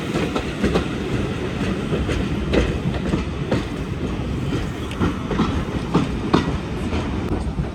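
A steam train on the Swanage heritage railway pulls into Swanage Station with a steady, loud rolling rumble and rhythmic clickety-clack of wheels over rail joints, carriages rattling throughout.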